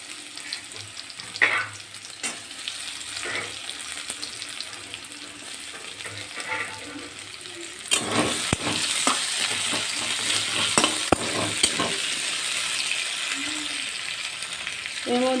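Onions and potatoes sizzling in oil in a wok, a continuous close frying hiss that grows louder midway, with repeated stirring scrapes and metal clinks.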